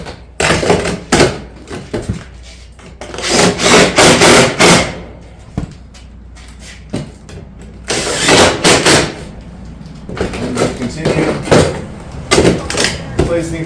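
Barrel vault roof tile caps are fastened along a hip line into 2x2 battens, with repeated sharp hammer or fastener strikes coming in bursts alongside clattering tile handling and some engine-like noise, fairly close and loud.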